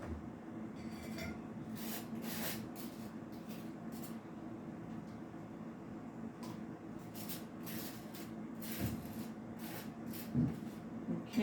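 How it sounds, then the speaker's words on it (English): A knife spreads mayonnaise across slices of toast in soft, scratchy scraping strokes that repeat irregularly. The sound is close and quiet over a low background hum. "I like to put a little bit of mayonnaise on my toast"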